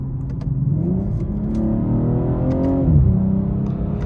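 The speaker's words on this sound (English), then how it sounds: "I love when you're in sport mode, the pops on the upshift are fantastic." A 2022 BMW M240i xDrive engine hums loudly from inside the car, climbing steadily in pitch, then drops abruptly as a quick gear shift comes through before it settles again.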